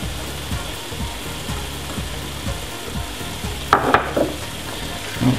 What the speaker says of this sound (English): we're going to stir this through and reduce this to a low heat